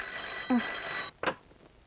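A telephone rings with a brief electronic trill, fairly clear, followed by a short burst of another sound and then quiet room background, in a domestic scene from a Hindi film.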